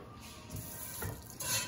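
Tap water runs steadily over a cast iron pan in a sink, a soft continuous splashing rinse that swells briefly near the end.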